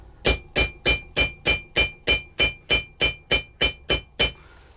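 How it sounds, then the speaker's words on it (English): A ball peen hammer strikes a copper rivet set in bridle leather: a dozen sharp, evenly spaced metallic taps at a steady brisk rhythm, close and clear with no talking. "And then I'm using a ball peen hammer."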